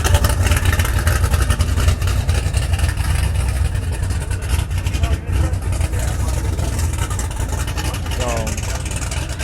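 Classic muscle car engine at an outdoor car show, a loud, steady rumbling idle with deep low-end throb running continuously, with people talking nearby.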